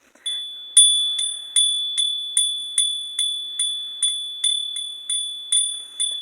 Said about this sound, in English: The bell is my Pegasus bell.